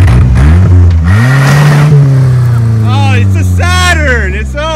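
A Saturn car doing a long burnout, its engine revving hard and holding high, loud and close, with voices talking over it.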